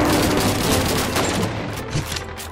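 Dense machine gun fire and overlapping gunshots in the Call of Duty 2 video game, a continuous loud burst of rattling shots that fills the whole stretch, with no speech.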